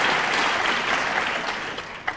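Applause from the crowd at the 2002 World 9-Ball Championship final after a great pool shot, a dense, even patter of clapping that thins slightly toward the end, with no voices over it.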